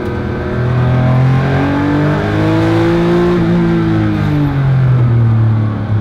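A Porsche 911 Carrera RS engine pulls hard under acceleration, its tone rising through the gears with a brief dip at a shift, loud and close from inside the car.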